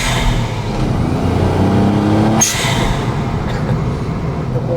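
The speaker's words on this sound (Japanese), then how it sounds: "エンジン音が聞こえるっていう。" Engine of a Honda S660 with a mid-mounted turbocharged engine and 6-speed manual, heard with the window open from inside the cabin as a steady loud drone close behind, with a brief burst partway through.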